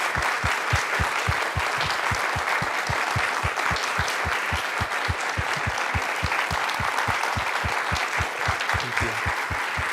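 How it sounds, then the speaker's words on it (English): A lecture audience at a keynote address gives long, steady applause, a dense wash of many hands clapping evenly for the full stretch, with a low rhythmic thump running underneath. "could we please give a round of applause"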